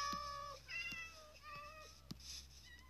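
A calico cat in the Minecraft video game gives several short, high meows at uneven intervals, with a few sharp clicks and a faint steady background hum, without talk.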